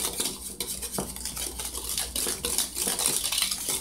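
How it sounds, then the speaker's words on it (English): Flour and sugar whisked together in a bowl, rapid rhythmic clattering and scraping of a metal whisk against the bowl, close and continuous with no speech. "And you just whisk that together."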